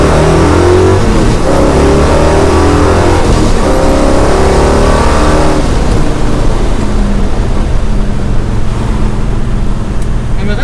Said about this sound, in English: Of course, no video is good without at least some acceleration.